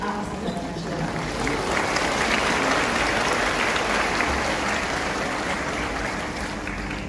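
Sustained applause from a large graduation audience at a doctoral ceremony in a university hall, steady and dense throughout with some talk mixed in underneath.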